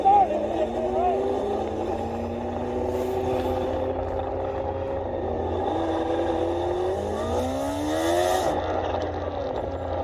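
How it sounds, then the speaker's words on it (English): A supercharged Kawasaki Ninja H2 motorcycle on its stock exhaust drones loudly and steadily, its engine pitch rising through several revving pulls during a street race. "What do you guys think about the sound of the H2 with the stock exhaust?"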